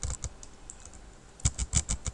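Keystrokes on a computer keyboard while HTML code is entered, sparse taps at first, then a quicker run of crisp, close clicks toward the end.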